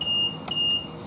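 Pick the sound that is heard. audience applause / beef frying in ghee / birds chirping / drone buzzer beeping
drone buzzer beeping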